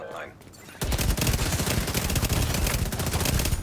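Rapid automatic fire from an F2000 assault rifle in The Division 2, a dense, loud continuous burst of shots after a brief quieter lead-in.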